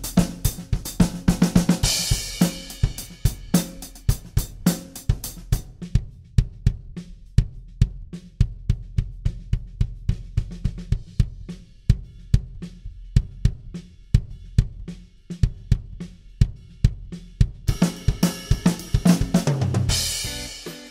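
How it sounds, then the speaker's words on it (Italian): A kick drum stuffed with a pillow and fitted with a kick damper, picked up by two microphones, played in a drum kit groove with dense, punchy, deadened beats, cymbals washing in at the start and end, loud and close. "Basta, andiamo a sentire la cassa piena."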